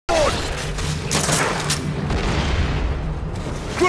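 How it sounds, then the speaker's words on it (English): A grenade blast in the monster-hunting shooter Evolve, a loud close boom with a rumbling, crackling tail that fills the whole moment amid ongoing combat noise. "Grenade!"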